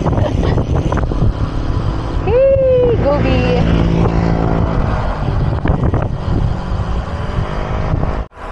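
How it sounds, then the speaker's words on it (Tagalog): A steady, loud motorcycle engine rumbles nearby with wind buffeting the microphone, while a voice briefly calls out. "Lakas naman ng tunog ng motor na yun."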